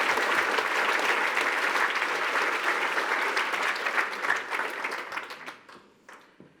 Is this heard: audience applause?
yes